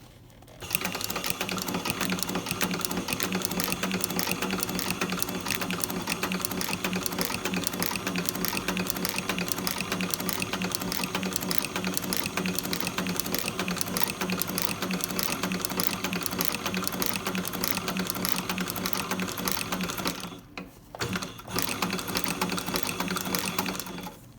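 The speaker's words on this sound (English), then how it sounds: "Just happen to stitch that lining." A sewing machine stitching the lining of a dog-chewed boot runs in a fast, steady whirring chatter for most of the stretch, pausing briefly near the end before starting again, with no talk.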